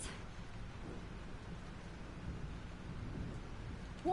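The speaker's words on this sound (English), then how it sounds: "This storm's real." Steady rain and a low, rolling thunderstorm rumble from the game Life is Strange, a dense continuous wash of rainfall throughout with no talking.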